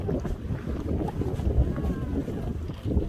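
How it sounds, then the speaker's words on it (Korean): Strong gusting wind on the summit of Hwangmaesan mountain buffets the microphone, a loud, uneven roaring rumble that swells and dips throughout. "바람이 엄청 많이 부네요 바람 엄청 많이 불고"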